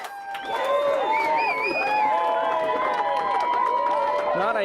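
A loud crowd at a provincial political campaign launch in St. John's cheers and whoops, with voices and shouts layered over one another in a sustained, energetic roar that holds at high level throughout.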